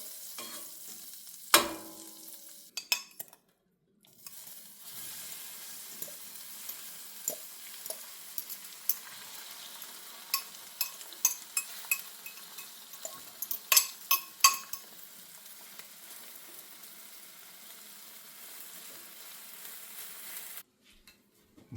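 Butter sizzles steadily in a frying pan on the stove for the whole stretch, with occasional stirring clinks and utensil taps on the pan rising above the continuous crackle, close and moderately loud.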